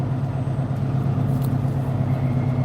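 A truck's engine drones steadily while it drives down the road, heard from inside the cab as a constant low rumble with road noise.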